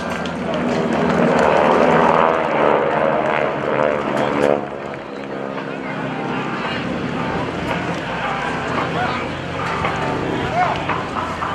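Several GEICO Skytypers vintage propeller planes fly a bomb burst maneuver at the 2014 NAS Oceana Airshow, with a loud, sustained droning roar that swells and gradually fades, while an announcer talks over a public address system.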